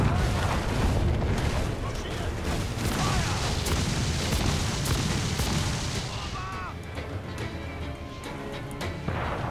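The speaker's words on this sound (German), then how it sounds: "und jetzt gibt es die schwere Kanone ins Gesicht" Heavy cannon fire against a warship in Assassin's Creed 4, a barrage of booming blasts and crackling explosions layered with a speaking voice, loud and dense throughout.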